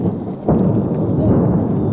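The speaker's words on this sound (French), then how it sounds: "Ah, de l'orage." Thunder from a storm rolls in as a loud, low rumble that swells suddenly and keeps booming steadily, heard outdoors close by.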